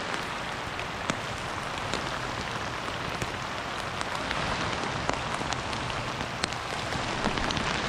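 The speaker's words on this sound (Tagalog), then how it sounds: "Ulan pa." Steady rain falls with a constant hiss, individual drops pattering sharply on a surface now and then.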